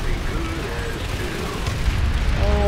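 Explosions from the video game Planetside 2 rumble in dense, continuous low booms and bursts, loud and close, while a player talks over the din.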